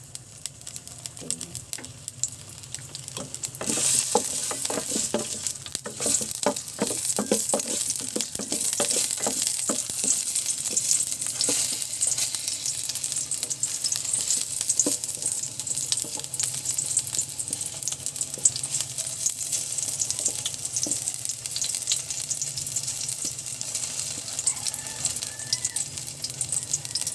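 Ginger sautés in hot oil in a pan at the start of a mung bean dish, producing a long, continuous close sizzle with a burst of crackling and spattering early on, then settling into a steady hiss.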